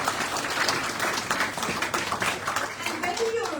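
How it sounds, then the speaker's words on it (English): An audience at a local contemporary art prize announcement applauds the finalists. Dense, continuous clapping runs throughout with murmured voices mixed in, and faint talk comes near the end. "So yes, clap again for"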